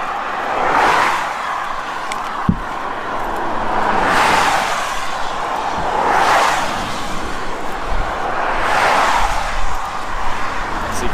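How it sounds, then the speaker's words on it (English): Cars pass one after another on an Isle of Wight road after dark, each swelling and fading about every two seconds, some pulling in nearby, with no talk over them. "See cars pulling in there"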